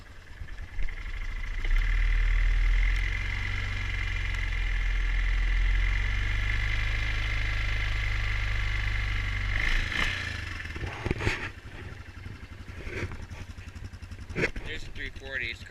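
A 2004 Yamaha Kodiak 450 ATV idles after a cold start in snow, a steady low rumbling engine close by that settles into a quieter idle with a few clanks and knocks.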